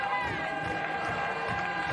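Crowd noise from spectators at the 2024 USA Ultimate Club Nationals women's final, a steady, moderately loud wash of cheering and chatter with no clear peaks, carrying on for about two seconds.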